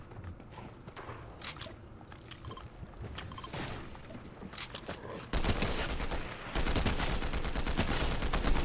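Rapid game gunfire in Fortnite, dense and loud, with scattered shots early that build into sustained continuous bursts in the second half.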